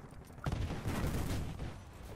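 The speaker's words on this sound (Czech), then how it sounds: "už do mě někdo střílí" A burst of rapid gunfire in the video game Battlefield: Bad Company 2 erupts after a brief quiet, rattling on for over a second before fading, fairly faint and muffled.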